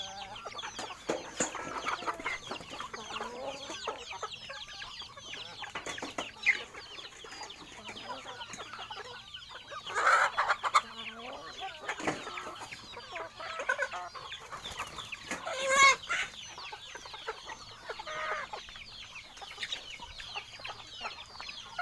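Native Thai backyard chickens cluck and squawk on a farm in an irregular, scattered chorus of calls, mostly moderate and fairly close, with some louder bursts.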